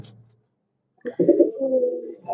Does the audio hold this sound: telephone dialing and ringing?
no